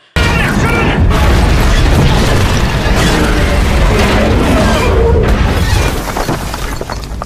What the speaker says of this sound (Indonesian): Saat itu juga mulai terjadi ledakan-ledakan yang mulai menghancurkan tempat itu.